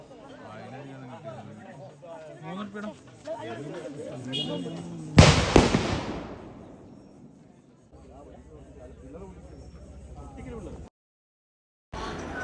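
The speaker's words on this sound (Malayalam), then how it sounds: "അതിൻ്റെ ചെറിയൊരു വെടിക്കെട്ടാണ് ഈ കാണുന്നത്." A small fireworks display at a temple consecration festival: one sharp, loud bang bursts out and decays over a second or two, with people talking and chattering before and after it.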